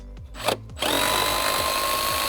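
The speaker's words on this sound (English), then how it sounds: "now we have a bunch of Torx 25 screws to remove" Power screwdriver backing out Torx 25 screws from a first-generation Volvo V70 dashboard: a couple of short whirring bursts, then a steady close-up whine held to the end.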